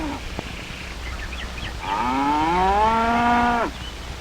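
A cow on grazing pasture gives one long, loud, close moo lasting nearly two seconds, with only faint background otherwise.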